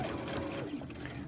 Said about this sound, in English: I'm just going to run an extra set of stitches just to make sure it's straight.